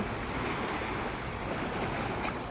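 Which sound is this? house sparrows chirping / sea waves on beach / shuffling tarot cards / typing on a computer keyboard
sea waves on beach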